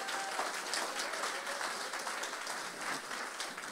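A church congregation applauds during a French worship service, a steady, moderately loud wash of many hands clapping that fills the whole stretch without pause.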